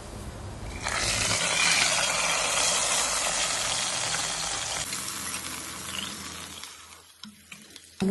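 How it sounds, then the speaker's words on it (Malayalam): Cashews and raisins fry in ghee in a pan for payasam, giving a loud, steady sizzle that gradually fades, with a few light clicks near the end and no talking. "ഒരു പാൻ വെച്ചിട്ട് അതിൽ നെയ്യ് ഇട്ടിട്ട് കൊട്ടം ദ്രാക്ഷം ഇട്ടിട്ട് നല്ല ഫ്രൈ ആക്കിട്ടെടുത്ത്"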